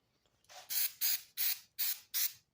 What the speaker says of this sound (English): I guess we'll spray something on top of them sending units and stuff.